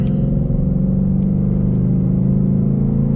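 A 2019 Ford Mustang GT with 460 horsepower pulls hard in third gear, its V8 engine a loud, steady, deep rumble heard from inside the car with no talk over it.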